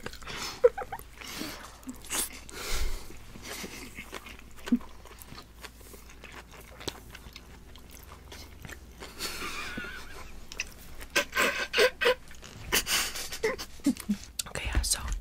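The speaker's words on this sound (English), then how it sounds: "you're chewing." Close, crisp biting and chewing of food during an ASMR mukbang, with irregular crunches and mouth sounds in bursts, mixed with soft whispered voices.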